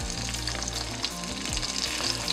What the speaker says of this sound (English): we're pretty much just going to sit there and sizzle